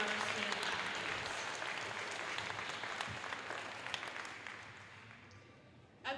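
A gym crowd claps for volleyball team parents at a high school senior night. The dense, steady applause slowly thins and fades toward the end.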